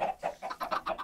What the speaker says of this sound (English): And I also have a lot of chickens,